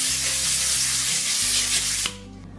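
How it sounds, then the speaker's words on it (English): Cooking spray hisses from an aerosol can onto a slow cooker liner, one continuous loud spray lasting about two seconds that cuts off abruptly, heard close up with no talking. "I am gonna go ahead and spray my liner with cooking spray as well"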